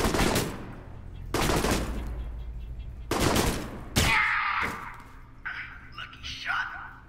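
Loud automatic gunfire in the video game Alpha Protocol, three long sustained bursts separated by short pauses, followed by quieter game sounds and voices.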